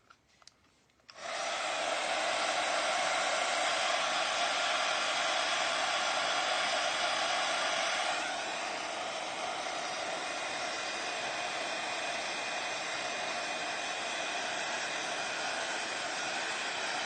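A hair dryer drying decoupaged plastic Christmas ornaments switches on after a faint click and roars steadily up close, easing to a slightly lower, constant whoosh partway through.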